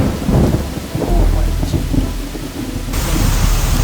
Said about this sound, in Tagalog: Napakalakas ng ulan, nagputik na ang paligid at kaliwat kanan pa ang kulog at kidlat.